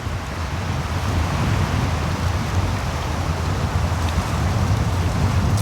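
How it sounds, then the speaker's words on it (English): Heavy rain pours down steadily on a beach campsite, a dense continuous hiss with a low rumbling undertone and no voices. "Another big rainfall."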